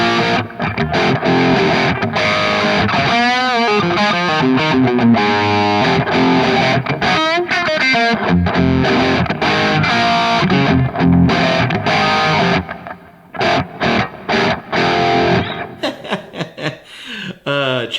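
A high-gain electric guitar played through a Kemper profiler, chugging palm-muted riffs with heavy distortion and sliding notes, loud and dense, ending in choppier stabs.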